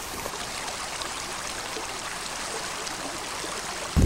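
Creek water runs steadily over stones on the John West Fork of Olema Creek, a close, constant rushing and trickling wash that stays even throughout.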